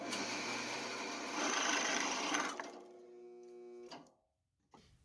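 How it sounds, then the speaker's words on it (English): A drill press bores into a small brass piece held in a jig, a steady whirring grind under load that eases off partway through, leaving a fading motor hum and a couple of brief knocks. "and we're ready to drill"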